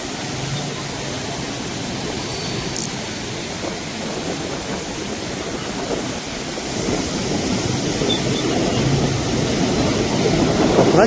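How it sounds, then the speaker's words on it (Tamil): Heavy outflow of water from the Iranaimadu reservoir, a steady broadband roar of rushing water that holds constant and swells slightly louder toward the end, with no talk over it. "நிறைய தண்ணி வடியே வருது."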